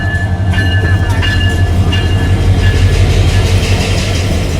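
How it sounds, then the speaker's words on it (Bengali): Kurigram Express 797, coming from Dhaka, rolls steadily into Parbatipur station with a loud, continuous rumble of wheels and carriages and faint rhythmic clatter on the rails. "ঢাকা থেকে ছেড়ে আসা কুড়িগ্রাম অভিমুখী কুড়িগ্রাম এক্সপ্রেস 797 আপ পার্বতীপুর প্রবেশ করছে"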